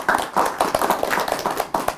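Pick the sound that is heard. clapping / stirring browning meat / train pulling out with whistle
clapping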